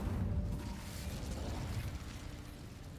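A fire spell blast cast in the Hogwarts Legacy video game, a dense roaring burst of flame with a low rumbling body that stays loud and steady throughout.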